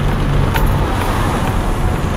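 A Suzuki Escudo on a road test drive after a front wheel bearing replacement, heard from inside as a steady loud rumble of road and engine noise taking a left-hand corner.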